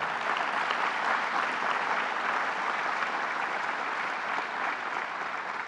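Steady audience applause at a public announcement by a state governor, a dense, even wash of clapping from a crowd lasting throughout.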